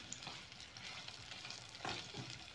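Sliced onions and green chilies frying in oil for a Bengali cauliflower fry, a soft continuous sizzle with a few stirring scrapes, close but quiet, no voices.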